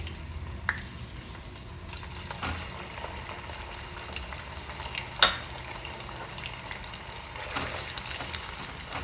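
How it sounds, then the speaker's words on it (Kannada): Paneer frying in hot oil over a low flame gives a continuous soft bubbling sizzle, moderately close, with occasional light clinks and one brighter metallic tap partway through; no one speaks. "ಎಣ್ಣೆ ಕಾದಿರೋ ಎಣ್ಣೆಗೆ ಈ ಥರ ಪನ್ನೀರ್ನ ಹಾಕೋತಾ ಇದ್ದೀನಿ."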